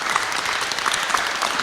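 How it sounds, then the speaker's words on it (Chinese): A lecture audience in a library auditorium breaks into steady, dense applause, close and even throughout, with no talk over it. "我们再次用掌声，谢谢唐老师"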